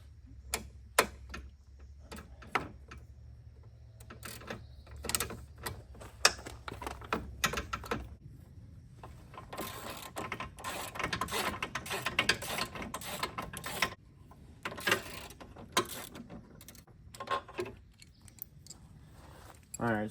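A ratchet wrench clicks in quick bursts while bolts are loosened from the cylinder head of a 2009 Audi A4 2.0T, with close, faint clicking runs separated by pauses and light handling clatter.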